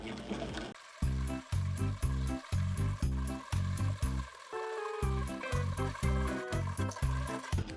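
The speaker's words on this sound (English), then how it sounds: "This is just a jar lid with a simple gear system, handle that spins and bolted on." Hand-cranked butter churn made from a jar lid with a simple gear system, bolted-on spinning handle and whisk, turning cream inside the jar; a steady, rhythmic whirring and knocking of the gears and sloshing repeats in short pulses, close and clear.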